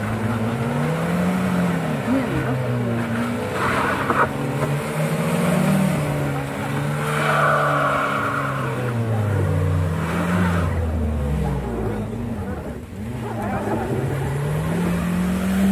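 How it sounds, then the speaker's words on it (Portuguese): A car accelerating hard, its engine a loud sustained drone with rising and falling pitch sweeps, close by and continuous throughout. "Acelera aí, acelera."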